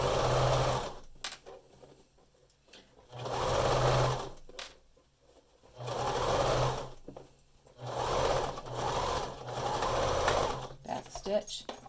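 Sewing machine running in several bursts of a second or two each, stitching an extra reinforcement row onto the elastic of a cloth N95 cover mask, with pauses between runs and a few small clicks near the end.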